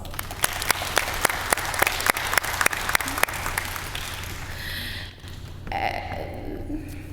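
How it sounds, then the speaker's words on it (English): A graduation audience in a civic center applauds the advisory team, with many hands clapping loudly and sharp individual claps standing out, before the clapping fades and mixes with crowd murmur. "Parents and SYC class members, please join me in giving our advisory team a round of applause."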